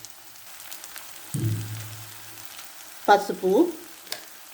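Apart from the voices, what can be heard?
fenugreek leaves and onion frying in pan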